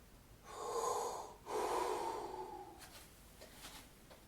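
Deep abdominal breaths demonstrated for trombone playing: two long, close, airy inhalations, the first a strong pull and the second longer and fading, followed by faint softer breath noises.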